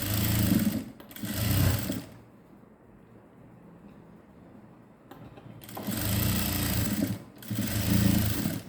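A sewing machine stitches a skirt made from an old silk saree, running in close, loud bursts with a quiet pause in the middle before two more stretches of steady whirring.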